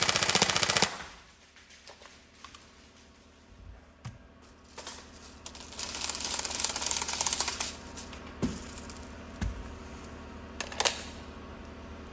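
Tokyo Marui 416 NGRS airsoft rifle fires a short rapid burst, then sparse single sharp clicks and shots follow in a quiet indoor space, close and crisp.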